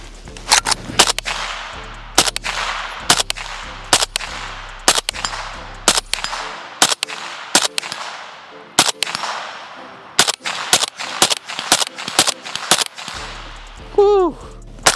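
A PSA short-barreled rifle fires repeated sharp gunshots in irregular bursts, loud and close. An excited shout comes near the end.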